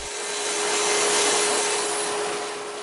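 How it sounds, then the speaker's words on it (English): Power saw trimming a large piece of maple tree branch in a woodworking shop, a loud steady whining cut with broadband hiss that swells and holds for the whole stretch, no voices. "here you can see I'm just trying to trim it up a bit so it can be more easily passed through the bandsaw"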